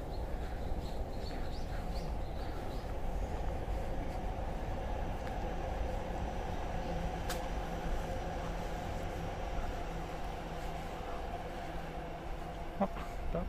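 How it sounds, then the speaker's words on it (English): Chuo Line local train rolling past on the Hino to Takao stretch outside Tokyo: a continuous, moderately distant rumble of wheels on rails, with no talking, under a quiet outdoor background. "Cute little local train."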